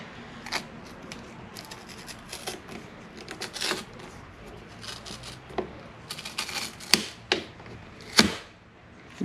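Plastic rear pillar trim is pried off a Hyundai Genesis, giving quiet, close scattered clicks and rustles, then a few sharper snaps and pops as the clips release.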